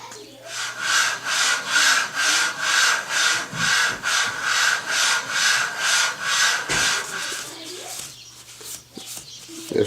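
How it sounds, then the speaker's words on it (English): Lapping aluminum scope rings for a Savage Mark II BTVSS .22 rifle, a close rhythmic rasping scrape repeating about every half second in even back-and-forth strokes, then slowing and trailing off near the end. "This is going to be a high spot that we need to lap into alignment. We're going to continue lapping."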